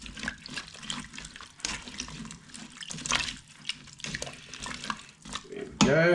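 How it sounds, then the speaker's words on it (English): Water poured into a cooking pot of chicken, carrots, parsnips, onion and potato, a close splashing, gurgling flow that rises and falls in bursts, ending with a brighter clatter. "I'm going to put another litre of water in there, or perhaps half."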